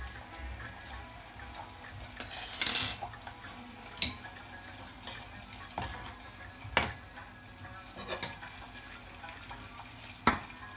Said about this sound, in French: Je vais essayer de tout mélanger.